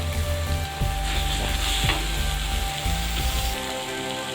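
Tamarind water hits a hot pan of anchovy (nethili) fish gravy, setting off a loud, steady sizzle and bubbling with a few stirring scrapes before settling to a softer simmer.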